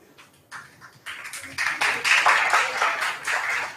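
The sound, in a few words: audience applause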